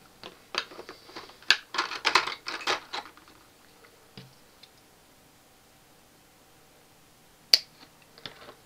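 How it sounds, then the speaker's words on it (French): A cluster of small, crisp snipping clicks from small scissors near the microphone, then quiet with a couple of isolated sharp snips later. "prends mes petits ciseaux, ça va être beaucoup mieux."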